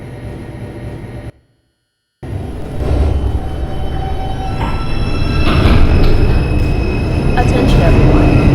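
New York subway 2 train bound for Brooklyn College–Flatbush Avenue pulling out of a station, loud rumbling wheels with squealing rising steadily after a brief dropout, with a voice briefly under the noise.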